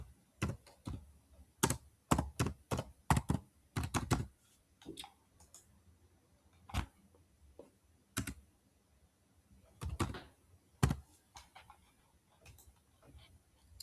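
A computer keyboard is used to type a new task, giving sparse, quiet keystroke clicks in short irregular bursts with pauses between them over about fourteen seconds. No one speaks.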